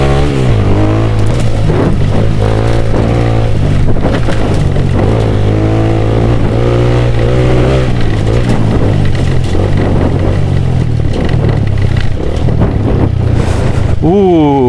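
A Suzuki Satria FU motorcycle accelerates on an off-road track with semi-slick tyres. The engine revs loud and close in a continuous rising drone, with gear changes shifting the pitch.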